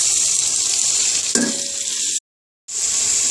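Tomatoes drop into a pan of frying ginger-garlic paste and green chilies, giving a steady loud sizzle with a brief burst at the moment they land, then a short silent gap before the frying resumes.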